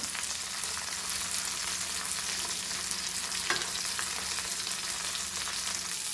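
Rava-coated anchovies fry in a couple of tablespoons of oil with a dense, continuous sizzle and a brief scrape as the pieces are flipped, close and steady.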